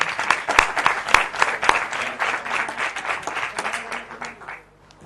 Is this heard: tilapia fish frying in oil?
no